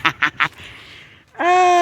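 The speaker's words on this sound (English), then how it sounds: "Even if you hate a goose like that, that was majestic." At a park decorated with holiday lights, a goose gives three quick, loud honks, followed by a short stretch of noisy rustling and then one long, drawn-out nasal call, all close to the microphone.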